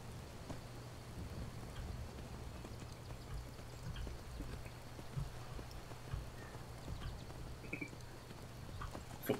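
Horse hooves clopping at a steady trot in the Skyrim video game, a quiet, continuous patter mixed with rain-like ambience and a low steady hum, no voices.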